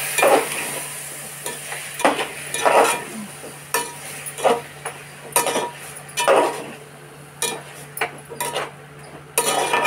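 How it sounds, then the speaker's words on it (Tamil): Potatoes and prawns are sautéed in a pan for prawn gravy, with a spoon scraping and stirring in repeated rhythmic strokes over a low, steady sizzle, close and clear. "நல்லா வதக்கிக்கலாம்."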